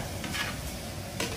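Curry puffs (karipap) frying in hot oil in a pan, a close, steady sizzle and crackle with soft stirring scrapes, no voices.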